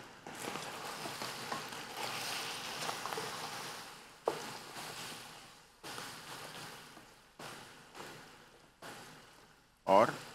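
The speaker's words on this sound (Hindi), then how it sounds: "ये हमने इसमें ऐड कर दिया सारी चीज़ें और इसको थोड़ा सा भुनेंगे" Beef paya with chili powder, salt and other spices fries in a pan, giving a soft sizzle broken by repeated stirring scrapes and a sharper clatter near the end.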